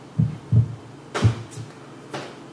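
Several soft, low thumps spaced about a third of a second apart, mimicking a heartbeat as a sound effect, faint and muffled under a light hum, with a couple of brief airy swishes between them.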